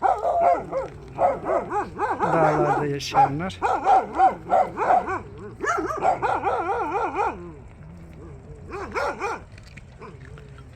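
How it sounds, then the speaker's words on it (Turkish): Several street dogs in a forest bark, yip and whimper in overlapping bursts nearby, with a person talking over them. "Bunlar gerçek sokak köpekleri."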